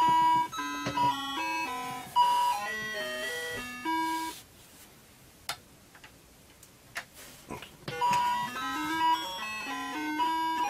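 Bleepy electronic melody and jump effects from a Smurfs cartridge on an Atari 2600 play in short tonal phrases, with a gap of clicks in the middle before the tune resumes.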